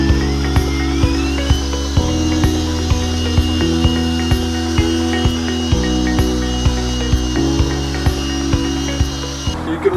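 A glass resurfacing polisher whirs steadily with a periodic ticking rhythm and shifting pitch steps as its speed is raised from low, close and loud, with no talking.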